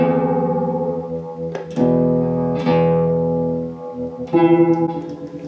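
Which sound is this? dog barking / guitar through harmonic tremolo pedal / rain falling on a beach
guitar through harmonic tremolo pedal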